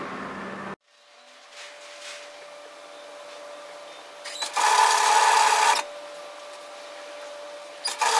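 A sewing machine stitches the shoulder seam of a puff sleeve top. It whirs loudly in a steady run, then eases back to a lower hum, with a short burst again at the end.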